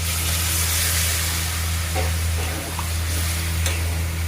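Duck meat cooks in a pot with a splash of water while it is stirred, giving a loud, steady hiss of sizzling and steam over a low hum, with a few soft scrapes of the spoon near the end.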